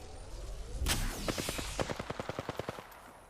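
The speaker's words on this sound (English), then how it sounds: "I am taking fire" Incoming automatic fire in a video game comes as a rapid, evenly spaced burst of sharp shots, fairly close but not loud, following a single heavier blast, with no talking.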